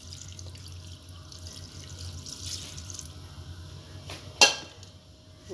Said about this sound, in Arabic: غير عمروا عليها الماء مزيان حتى تعوم في الماء